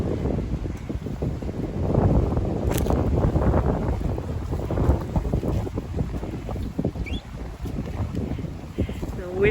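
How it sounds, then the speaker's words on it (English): Strong wind buffets the microphone outdoors at a Canadian off-grid homestead, with loud, gusty rumbling that swells and eases across the clip. "The wind is blowing away all our precious earth we've collected."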